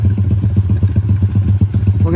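Two 110cc pit bikes idle side by side, one with a factory PisterPro exhaust and one with a generic stock exhaust, giving a close, loud, rapid putting thump. Another sound rises at the very end.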